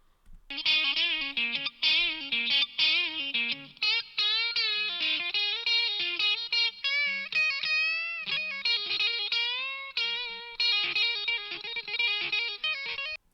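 Fully mixed music track with layered harmonic instruments and a slight touch of distortion, processed through Slate Digital plugins, playing continuously and loud with rhythmic dips, no voices.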